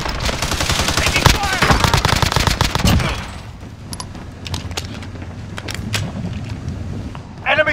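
Rapid automatic gunfire rattles in Call of Duty Warzone, a loud sustained burst of dense shots for about three seconds, then scattered sharper single cracks and clicks over quieter background, with a voice talking throughout.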